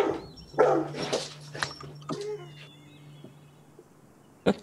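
Guard dogs barking in several sharp, separate bursts at close range, with a few whimpers and yips between them.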